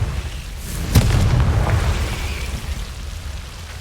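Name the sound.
Confringo blasting spell explosion, video game Hogwarts Legacy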